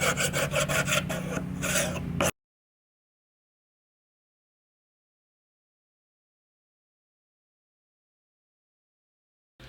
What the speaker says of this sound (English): Okay, then we're gonna scrape.